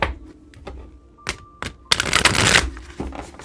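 A deck of cards is shuffled by hand, first a few sharp isolated snaps and then a dense riffling burst that trails off into a couple of soft taps, close and clear with no talking.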